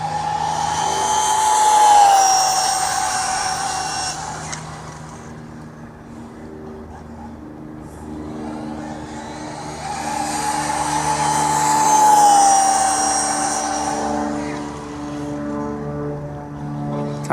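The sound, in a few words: Team Corally Python 6s RC car speed run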